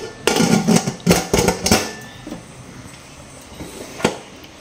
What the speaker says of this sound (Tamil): இந்த மூடியை போட்டு